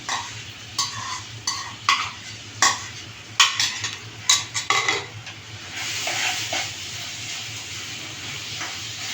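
Chopped jackfruit tossed and stirred in a pan for a traditional chakka ada, with a soft steady sizzle underneath and irregular scraping and clinking of a utensil against the pan, close by.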